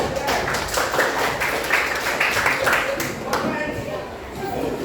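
Classroom children perform the tepuk cinta clapping routine, rhythmic group claps pulsing in quick regular beats under their chanting voices, close and lively throughout.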